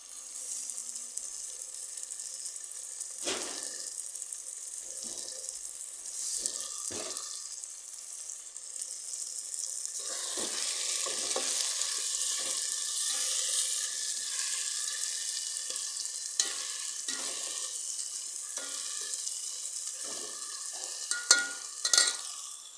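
Fish curry with potatoes sizzling steadily in a pan while it is stirred, a continuous close hiss with scattered soft scrapes and taps, no voices.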